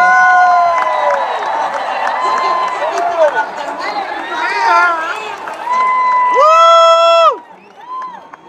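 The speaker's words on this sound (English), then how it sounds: "Look at this crowd." A packed arena crowd at a Turning Point USA Trump rally in Glendale, Arizona cheers and whoops loudly and continuously, with shrill whistles and shouting voices rising above the roar before it briefly drops.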